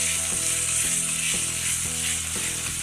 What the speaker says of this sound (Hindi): और भूनेंगे, बिल्कुल मसाला खत्म करना।